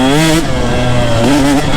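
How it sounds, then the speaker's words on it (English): A KTM 150 two-stroke enduro motorcycle with an Electron carburetor lugs at low revs on a woods trail, its loud, close, buzzy engine note rising and falling slightly throughout. "This 150, I got Electron carb on this thing. And man, it lugs so nice."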